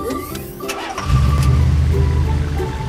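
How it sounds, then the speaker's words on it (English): For a toy police car, an engine cranks briefly and catches, then settles into a loud, continuous low idle rumble, heard alone without voices. "Police car."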